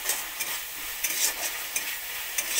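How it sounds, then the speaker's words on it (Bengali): A spice masala for a pickled pumpkin and egg curry fries in a pan under a soft, steady sizzle, broken by brief scraping strokes of a spatula every fraction of a second. "মশলাটা আমার প্রায় কষানো হয়ে গেছে"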